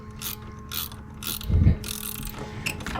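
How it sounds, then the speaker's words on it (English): A ratcheting wrench clicks in rapid bursts during a Jeep Wrangler LJ winch install. The close, crisp ratchet and pawl sounds repeat several times and are heard alone, with a duller mechanical thump in the middle. "Okay, so this guy, well, I love ratcheting wrenches."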